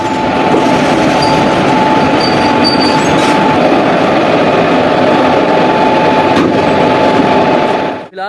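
A WAP-4 electric locomotive rolls in at a station on the Haridwar–Rishikesh line to couple onto a passenger train. A loud, continuous rumble of wheels on rail carries a steady tone and faint squeals, ending with a clunk.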